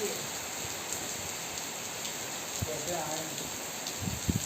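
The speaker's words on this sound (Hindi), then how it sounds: "बारिश हो रही है यार" Steady rain falling in a village, a constant close hiss of drops with occasional sharper taps near the end, and a voice speaking briefly beneath it.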